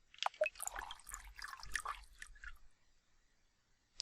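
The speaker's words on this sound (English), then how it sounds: "It's a flavored water dispenser." A flavored water dispenser in the Space Pilgrim Academy game gives a short burst of splashing, gurgling liquid with a few drips, then falls quiet before a brief click at the end.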